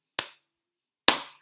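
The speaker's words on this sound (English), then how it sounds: "First of all, clap a steady beat," Two sharp hand claps about a second apart in a nursery phonics lesson, each crisp and close with a short decay, separated by silence.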